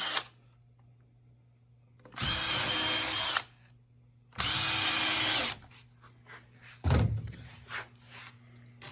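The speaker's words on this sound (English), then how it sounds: "now I can go ahead and drill the rest of my holes" A power drill drilling holes in wood for an Adirondack chair whines in two loud bursts of about a second each, followed by a short thunk, with a low hum underneath.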